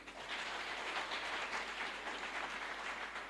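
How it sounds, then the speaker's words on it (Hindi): Audience applause at an Amway business motivational event in honour of two directors, a dense, steady wash of many hands clapping that carries evenly for a few seconds with no voices on top. "उनके लिए जोरदार तालियां हो सकती हैं।"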